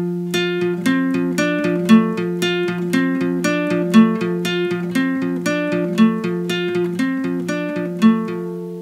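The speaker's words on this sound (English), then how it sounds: "This instrument is playing a little motif that is also outlining an F major chord." Bright chiptune melody from the Sega game Ristar, a bell-like repeating motif arpeggiating an F major chord with an added sixth over a steady bass, looping in even two-second phrases, loud and clear with no voices.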